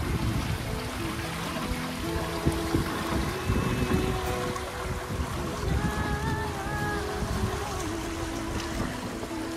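Sailboat off southern Italy sailing nearly downwind under mainsail only at about 7 knots in 13 knots of wind, with continuous wind buffeting and water rushing past the hull, steady and near, no voices.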